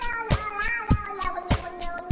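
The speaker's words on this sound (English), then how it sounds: "So it's a cat in heat." A cat in heat yowling in a repeated series of short, loud, wavering meows, roughly one every half second, close by with a plucked bass-like thump under each cry.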